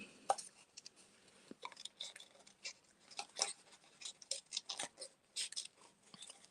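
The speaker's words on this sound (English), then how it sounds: "This is absolutely terrible fussy cutting" Scissors fussy cut paper for card making in quiet, faint irregular snips and rustles, close by and with no speech.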